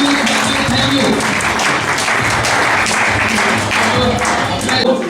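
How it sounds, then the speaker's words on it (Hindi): A gathered audience at a team celebration event in Amarkantak claps loudly and continuously, a dense near wash of hands with a speaker's amplified voice over it. "तालियां बजनी चाहिए, स्टार वाली ताली, स्टार वाली ताली"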